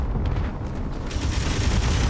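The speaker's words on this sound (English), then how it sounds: "Oh, I think something exploded on our base." An explosion rumbles on a base in a video game, a heavy low boom that rolls on continuously for a couple of seconds with scattered crackling bursts on top, loud and with no voices.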